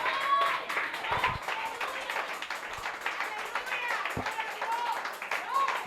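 A church congregation claps lively for the Lord during a sermon, rhythmic applause mixed with cheering voices and speech, sustained across the stretch.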